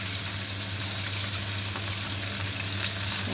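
Food sizzles steadily in a frying pan, a close, continuous hiss that holds an even level throughout with no talking.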